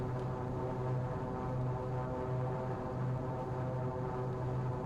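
Metroliner III twin turboprop cargo plane in a flight simulator, engines droning steadily at high power with a low pulsing hum on the runway, loud and continuous with no talk.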